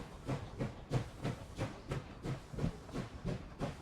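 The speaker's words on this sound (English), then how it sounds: "And this train sounds pretty cool too." Locomotive in the Last Train Home real-time strategy game chugs with a steady, rhythmic beat of evenly spaced exhaust puffs, about three per second, carried over a low rumble with no talk.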